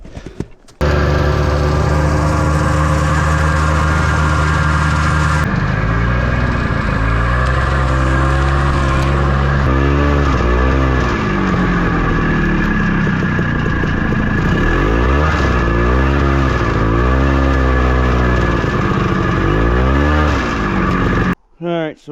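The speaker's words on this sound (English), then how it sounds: "we're trying to go through the woods to get closer to that bog on the snowmobile" A snowmobile pushes through snowy woods toward a bog, its engine droning loud and close, then rising and falling in repeated revving surges as the machine works over rough ground.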